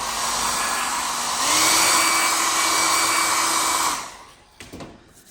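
A hair dryer blows on cleaned leather during a scuff repair, a loud close whine that steps up in speed, runs steadily, then cuts off and winds down, followed by a few faint knocks.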